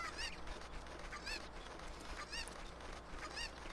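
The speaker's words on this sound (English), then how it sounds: "happy chicken. Don't listen to those screams of distress." A cucco chicken in Ocarina of Time 3D Master Quest squawks in distress, four faint, shrill cries about a second apart over a low background hum.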